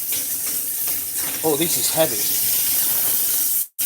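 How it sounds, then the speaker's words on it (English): Scallops fry in hot oil in a steady bubbling sizzle and hiss, with a person speaking over it partway through and a brief dropout near the end. "just put it in hot oil and fry it"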